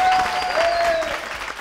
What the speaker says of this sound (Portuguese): uma salva de palmas para Jacqueline Saluvo